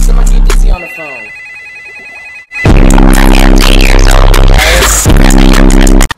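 Telephone ringing with a bright repeating electronic tone, first quietly under a voice, then loud and dense after a brief silence, mixed with music and talk.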